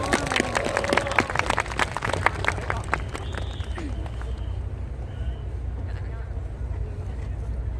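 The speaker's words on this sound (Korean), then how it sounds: "박수 부탁드리겠습니다." A studio audience of middle school students at a Korean comedy talk show bursts into brief applause, dense clapping at first that quickly fades into a low murmur of room noise.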